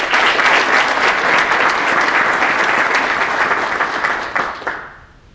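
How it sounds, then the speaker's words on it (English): Warm applause from an audience fills a graduation ceremony for a training class, a thick continuous wash of clapping that holds steady, thins near the end with a few last claps, and fades out. "please give the guests of 1175 a round of applause"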